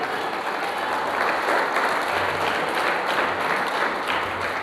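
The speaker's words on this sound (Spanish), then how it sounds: "Dele palmas al Dios de la gloria." A church congregation claps together in a dense, continuous round of applause lasting several seconds, loud and even with no voices standing out.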